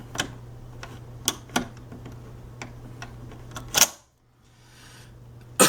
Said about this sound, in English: Let me close this bolt real quick.